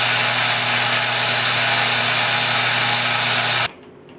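A blender grinds two cups of rice into flour with a loud, steady high-pitched whir that cuts off abruptly near the end, leaving near silence.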